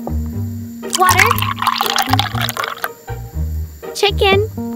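Water poured into a container while cooking miniature crispy fried chicken, splashing and trickling in uneven bursts, mixed with background music and a voice talking over it.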